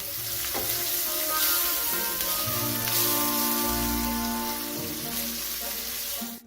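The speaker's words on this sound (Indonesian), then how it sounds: "Gongso bawang bombay ini hingga berbau harum." Chopped onion fries in melted margarine with a constant close sizzle and crackle, while soft tuneful music plays underneath.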